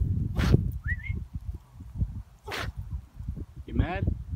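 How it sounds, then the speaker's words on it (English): A dog sneezes when mad, giving two or three short, sharp snorting bursts between faint whimpers and a whistle-like squeak, close by, with a person talking quietly under them. "She sneezes when she's mad."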